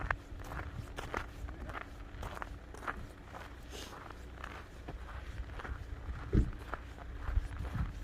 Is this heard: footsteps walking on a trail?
yes